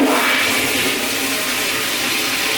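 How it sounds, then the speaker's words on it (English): A hotel room toilet at a Biloxi casino resort flushes in one loud, steady rush of water that fills the whole moment, with no talking over it. "Flush real good too."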